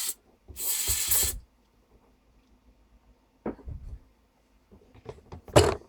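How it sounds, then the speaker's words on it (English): A loud aerosol can sprays in one sustained hissing burst onto a lawnmower engine, then after quiet come clicks and handling noises, ending with a short second spray. "let's spray off some of this top"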